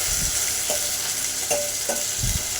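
Nalleru, veldt grape stems, fry in a generous amount of oil with a continuous close sizzle, broken by a few utensil scrapes and clinks.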